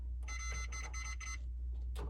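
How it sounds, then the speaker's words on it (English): A multimeter set to continuity mode beeps while testing wires during a camper TV antenna replacement: four quick, shrill tones in close succession, then a brief pause and a fifth beep, close and clear. "whichever one beeps, look at that, right off the bat, I found the first one."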